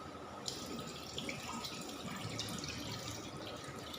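Boiled bamboo shoots are rinsed under running water, a steady close splashing stream with occasional drips and clatter, with no talking.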